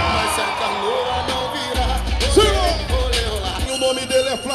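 A rodeo crowd at a country festival in Juiz de Fora, Brazil whoops and yells in a loud burst of shouting, with a deep rumble and scattered bangs underneath.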